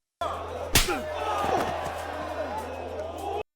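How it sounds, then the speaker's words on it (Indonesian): A hard slap to the face, one sharp crack early on over the murmur of a surrounding crowd, with faint reactions afterward. "harus menerima tamparan terlebih dahulu"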